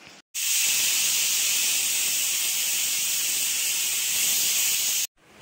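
A pressure cooker of mutton trotters vents its whistle as a loud, steady steam hiss. The hiss starts abruptly and runs unbroken for about five seconds, then cuts off suddenly, with no talking.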